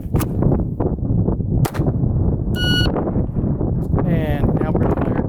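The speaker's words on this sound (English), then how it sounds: "So I'm going to be firing one shot in that 3-second time frame, drawing" Glock 44 pistol fired at a shooting range from three yards, a few sharp cracks over wind noise while someone talks, with a beeping timer tone sounding midway.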